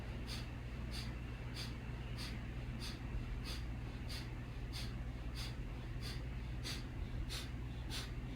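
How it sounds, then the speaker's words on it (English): Kapalabhati skull shining breath: steady, rapid forceful exhales through the nose, about two per second, each a short sharp puff, close and regular over a constant low background hum. "Start with Kalabhati breath, skull shining breath."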